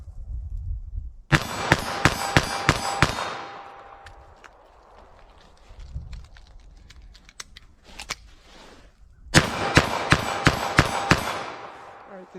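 Federal Punch .22 Magnum rounds fired from a revolver at an outdoor range, a rapid string of five or six sharp cracks, a pause with metallic clicks and handling, then another quick string of shots.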